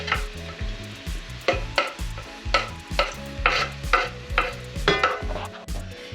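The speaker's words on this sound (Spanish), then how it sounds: "Una vez que el aceite está fuerte, le echamos el ajito" Garlic and onion fry in hot oil while being stirred, giving a steady close sizzle broken by regular scraping strokes, with no talk.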